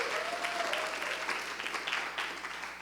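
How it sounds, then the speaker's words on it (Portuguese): Audience applause for Edgar at a spiritual-warfare class, a brief burst of steady clapping heard at moderate distance, fairly soft overall. "uma salva de palmas para Edgar"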